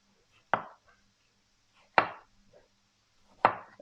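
Three sharp knife chops through an onion, sliced very thin for a chicken tikka panini, land about every one and a half seconds, crisp and close with quiet gaps between.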